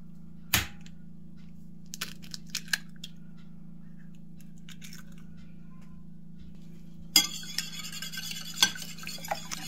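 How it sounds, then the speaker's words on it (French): Two eggs whisked in a salad bowl, quick scraping strokes in short bursts at the start and then a denser run of rapid beating toward the end over a low steady hum. "Je les fouette."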